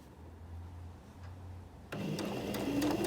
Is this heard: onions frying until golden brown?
no